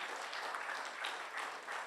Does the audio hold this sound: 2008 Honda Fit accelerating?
no